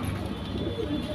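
Rampuri pigeons with black eyes cooing in a steady, close, low murmur over a short moment, with no talk.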